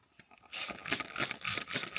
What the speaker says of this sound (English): this is what I use to actually wash my dishes, and I just go spray, spray, spray